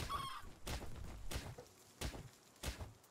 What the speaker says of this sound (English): I'm beating the shit out of a chicken right now.